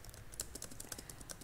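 Quick, irregular key taps on a computer keyboard, close and fairly soft, clattering steadily for a moment with no talking.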